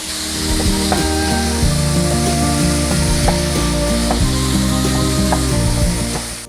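Ground beef and chopped onion sizzle steadily in a hot pan for a family dinner, a continuous loud fry with occasional stirring scrapes and clinks of a utensil.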